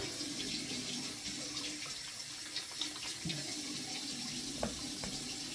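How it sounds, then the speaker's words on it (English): Tap water runs steadily into a sink during hand washing, a continuous close hiss and splash with faint clinks and handling noises over it. "wash my hands pretty good"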